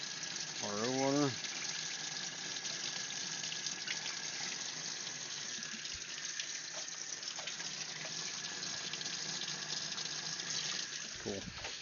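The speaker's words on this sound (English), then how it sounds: "Rinse this out with some RO water" RO water runs steadily from a tap as an aquarium item is rinsed, a continuous close splashing gush that lasts throughout, with a voice talking briefly at the start and end.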